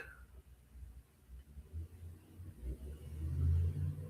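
A truck passes outside a window as a low engine rumble that builds steadily and grows loudest near the end, with no talking.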